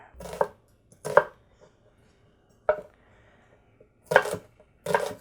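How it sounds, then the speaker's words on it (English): A knife chops an onion on a cutting board in a home kitchen, with five sharp, separate thuds spread across a few seconds and quiet pauses between them. "So now I'm peacefully cutting my onion."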